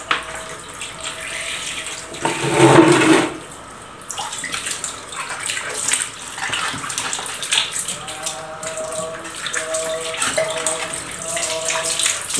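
Water is poured over the rubber door gasket of an LG front-loading washing machine, a gushing splash that swells briefly and then settles into lighter trickling and dripping, with a voice talking at times.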